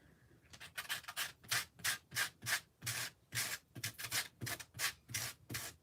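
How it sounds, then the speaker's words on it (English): Sandpaper rubbed over distressed lace paper with layered paint, a steady run of about a dozen close, rhythmic rasping strokes, each a short burst of scratchy friction, with no voices. "Gently rub sandpaper over the raised areas and along edges."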